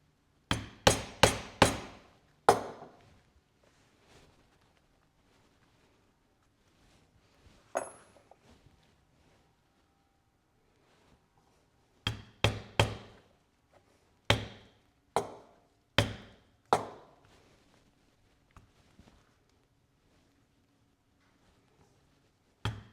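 Sharp, loud mallet strikes drive stitching chisels through leather and double-sided tape, landing in quick clusters of three to five blows separated by pauses, with a few lighter taps in between.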